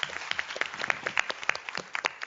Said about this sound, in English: If you would give a round of applause.